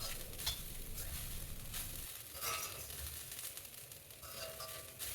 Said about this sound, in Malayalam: അതിലേക്ക് ആദ്യം തന്നെ നമുക്ക് തേങ്ങ വറുത്തെടുക്കണം